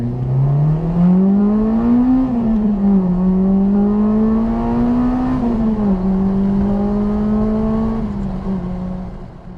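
A 2002 Honda Civic Type R EP3 engine revving hard toward VTEC, a loud sustained buzzing drone whose pitch climbs, dips and climbs again across several pulls before easing off at the end.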